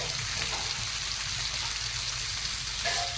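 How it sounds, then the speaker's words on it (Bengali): Butter chicken marinated in spices sizzles steadily in butter in a pan, a dense even frying hiss with crackling throughout. "একটু সময় লাগে অনেক টাইম নিয়ে ভাজতে হয়"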